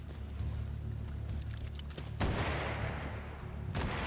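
Gunfire in the Western tactics game Hard West 2, a burst of shots erupting after a stretch of low rumbling ambience, with a second loud volley near the end, no talk.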